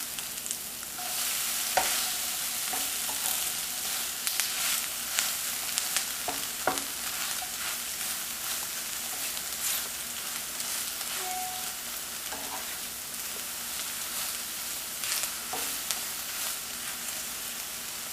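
An egg frying in a pan for breakfast, a continuous close sizzle and crackle with a few sharp clicks and taps of a utensil against the pan, heard alone without talk.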